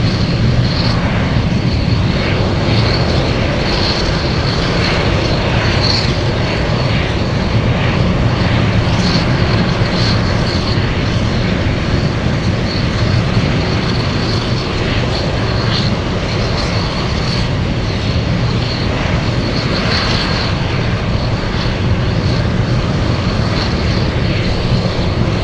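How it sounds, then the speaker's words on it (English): A Boeing 747 Dreamlifter roars steadily through its takeoff run at Anchorage, a loud, continuous broadband engine rumble with a whining hum that holds for the whole stretch. "And this 747 will be on takeoff."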